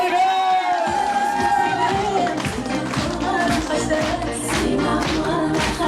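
Wedding guests in a cafe applaud the parents, a steady wash of clapping and crowd noise layered over loud festive music that runs throughout.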